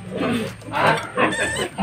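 Native piglet squealing before castration, loud harsh cries in repeated bursts with a human voice briefly underneath.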